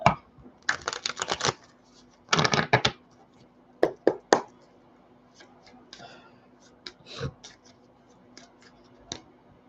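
Tarot cards are shuffled in bursts of quick riffling and snapping, close and crisp, with separate single taps and slaps between bursts and no talking.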